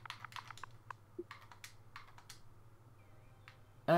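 Quick bursts of computer keyboard typing, a short run of light key clicks entering a game command, close and clear over a quiet background, ending in a louder thump.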